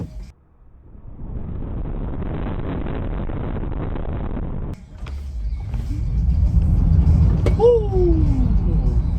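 A Tesla Model Y pulls away and drives on the road. Low tyre and wind rumble builds as the car speeds up, a brief rising whine cuts in, and the noise settles into a steady cabin roar.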